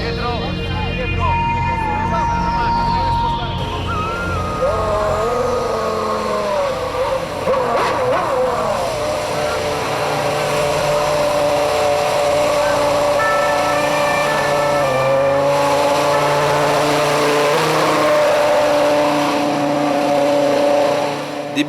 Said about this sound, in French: La F1 et son cortège remontent l'avenue Foch pour traverser la place de l'Étoile et emprunter les Champs-Élysées